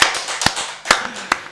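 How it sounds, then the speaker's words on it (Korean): A congregation claps during a Korean church worship service, with sharp, irregular bursts of hands striking, close and loud, in a reverberant hall. "우리 박수로 하나님께 영광 드리겠습니다."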